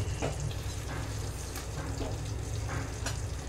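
Jackfruit being slow-cooked as a dum curry is stirred in the pan, giving a quiet, steady frying hiss with a few soft scraping clicks of the spoon, close by and with no talking.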